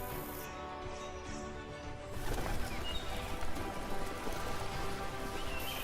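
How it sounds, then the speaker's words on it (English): A large flock of red-billed quelea, small weaver birds, makes a dense, continuous chatter of twittering calls that swells and stays loud throughout, with no voices. "Calea calea, or red-billed weaver."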